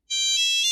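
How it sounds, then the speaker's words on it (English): A telephone rings out with a bright, sustained electronic tone that starts abruptly and holds at steady volume, heard alone. "Before we can go, we've got to answer the feedback phone."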